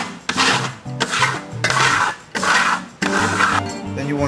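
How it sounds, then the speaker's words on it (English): A steel trowel compressing and burnishing a cracked-style Venetian plaster coat on a wall, giving close, loud rasping scrapes in several repeated strokes of about half a second to a second each. "want to get your burnishing trowel and start burnishing it"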